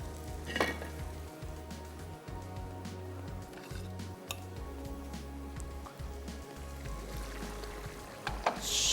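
Food frying until golden brown in a pan for qeema-stuffed capsicum, heard as a steady, quiet sizzle with occasional utensil clinks and a low hum underneath.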